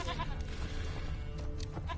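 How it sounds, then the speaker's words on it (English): Goat in The Witcher 3 bleating in short repeated cries over a continuous ambient background, fairly close and moderately loud. "Here, goat."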